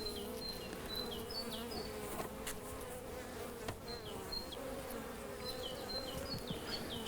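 Honey bees buzz steadily around an open colony during a hive inspection, a dense continuous drone with individual bees whining past up close.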